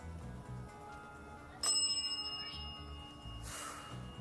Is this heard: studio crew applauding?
no